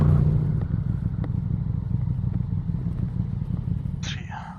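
A KTM 1290 Super Duke GT motorcycle idles with a rough, throbbing engine and occasional sharp exhaust pops like small gunshots, then a brief higher whine near the end; a voice talks briefly at the start.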